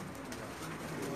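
Pigeons coo softly on a rooftop in Jeddah, Saudi Arabia, their low murmuring calls faint beneath steady outdoor background noise.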